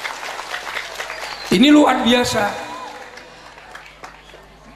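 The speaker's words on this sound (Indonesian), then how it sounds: "Tepuk tangan untuk MTSN" An audience at a madrasah inauguration ceremony gives a round of applause, heard as a scattered clapping wash beneath someone talking over a microphone, fading toward the end.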